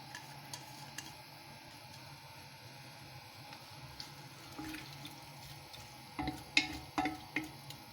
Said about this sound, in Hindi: घी जो है गर्म हो गया है, अब मैं इसमें ये प्याज डालूँगी।